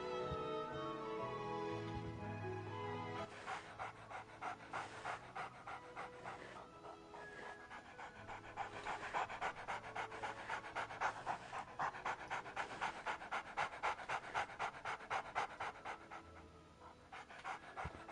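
A dog pants in a video game with quick, rhythmic breaths that start after a few seconds and carry on steadily to the end, moderately close, over a soft game soundtrack.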